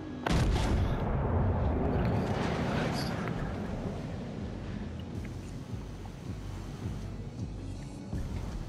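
Front guns of a warship firing in World of Warships: Legends, a heavy booming salvo at the start that rolls into a long, low rumbling decay.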